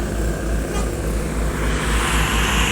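Sumatera Barat intercity bus rolling past on a road in Palembang, a loud, continuous low engine drone with a throbbing rumble close by, no voices over it.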